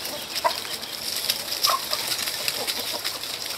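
Roosters fighting, squawking and clucking among chickens in short agitated bursts over steady outdoor background noise on a rural farm, fairly close.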